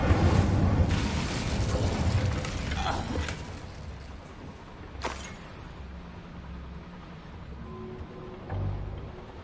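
Incendio fire spell cast in the Hogwarts Legacy video game: a heavy roaring whoosh of flame that swells at the start and slowly dies away, with a few later thumps and pops.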